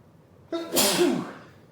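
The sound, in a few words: sneeze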